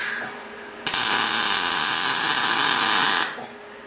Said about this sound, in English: let's just see if I can get a bit more weld on that now